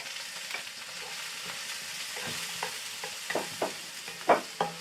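Onion and garlic frying in very hot oil, a steady sizzle with spatula stirring scrapes growing louder toward the end, no voices.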